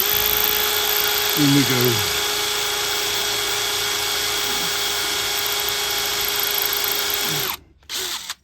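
A power drill bores steadily through a metal gate for a new lock, a loud continuous whine with a brief dip in pitch early on, cutting off near the end; a voice speaks briefly.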